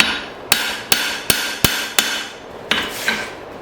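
A hammer forges an old file on an anvil with about seven loud, sharp metallic strikes at a steady, slightly slowing pace, each ringing briefly before the next.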